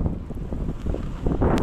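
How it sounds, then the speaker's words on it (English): Wind rushing past a skier on a snowy slope, a brief low rumbling buffet against the microphone that stays loud and close. "At least the wind's blowing against us."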